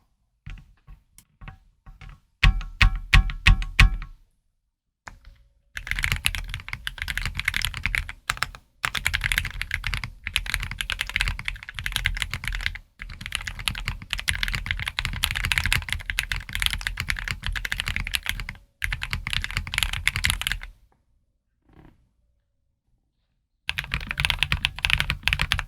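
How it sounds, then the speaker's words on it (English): Typing on a Tiger80 mechanical keyboard: a few separate keystrokes, then long runs of fast, dense clacking broken by short pauses, close and clear, with no speech. "stick around for some typing tests"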